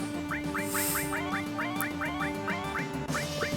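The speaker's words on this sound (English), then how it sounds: "we just have some geese going nuts outside there" Geese honking outside in rapid repeated bursts, a steady run of nasal calls over a constant background hum, fairly clear and distant-ish.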